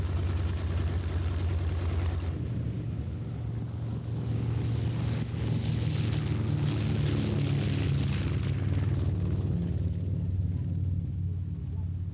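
Droning piston engines of a North American B-25 bomber in flight, a steady low rumbling hum with a throbbing tone that swells and recedes as the aircraft passes, with a voice speaking partway through.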